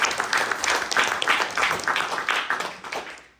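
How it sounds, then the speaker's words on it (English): Audience applause at a venture pitch competition, honoring the event's sponsor: dense, steady clapping from a crowd that holds for about three seconds before fading out quickly at the end. "let's give our sponsor another well-deserved round of applause"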